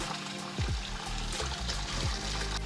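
Water trickles and splashes steadily close by while washing a new stone grinder, with soft intermittent pouring over a hard stone surface and no talking.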